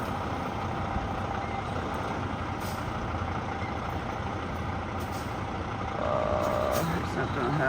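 A Lowe's delivery truck fitted with tire chains labors up a steep hill north of Fairbanks, its engine droning steadily throughout and rising slightly near the end, with a brief higher whine and a person's voice partly over it.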